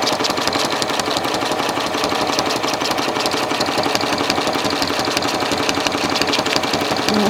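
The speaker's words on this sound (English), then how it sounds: "We are stitching right now at a tension of 5." Sewing machine running free motion quilting stitches, a loud, even mechanical whirring with a fast pulsing rhythm held steady throughout at close range with no talk.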